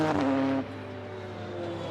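Radical Supersport race cars at Oulton Park's Island Bend, engines driven hard at the limit, one loud car tone sustained then falling away as it passes, with a steady engine drone continuing underneath.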